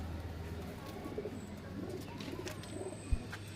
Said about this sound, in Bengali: এই এক পেয়ার ম্যাড্রাস পায়রা আছে, খুব ভালো ওড়াই গ্যারান্টি পায়রা